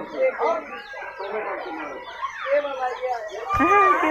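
Busy chirping of many small birds and chicks, high peeps overlapping continuously, with a person speaking over them throughout.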